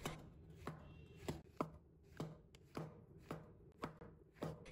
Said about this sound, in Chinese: 把香菇放在菜板上，我们把香菇也切成厚片